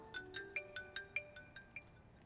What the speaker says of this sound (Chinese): 来电话了